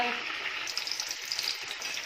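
Chicken sizzles and crackles in hot oil in a pan over a gas flame, with scraping stirring sounds over a steady frying hiss.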